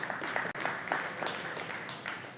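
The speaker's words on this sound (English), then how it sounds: "give yourselves a round of applause for that" Workshop audience at a robot-building tech talk breaks into applause, a dense steady patter of many hands clapping at moderate distance, with a brief dropout partway through and no talk over it.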